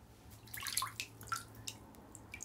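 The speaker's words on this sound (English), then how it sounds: "I only have one hand to squeeze the water out of her." Water squeezed from a wet plush toy, trickling and dripping in a quick series of small splashes and drips, close and quiet, with faint background hum.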